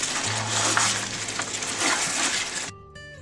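Goat meat sizzles and crackles in oil with salt and chillies for black pepper gosht, a steady close frying hiss with faint stirring clinks before it cuts off abruptly near the end.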